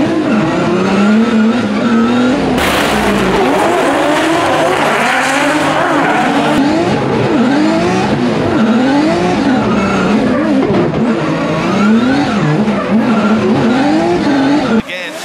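Drift Masters competition car sliding through a transition at a concrete-course round, tires squealing hard over a loud straining engine, continuous and close, with a commentator talking over it.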